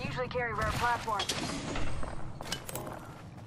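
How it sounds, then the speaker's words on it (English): Gunfire rings out in an Apex Legends battle royale match, with a few sharp bursts of shots cracking under players' talk. The shots sound fairly distant and are partly buried beneath the voices. "we got more shots to the north, probably by bunker"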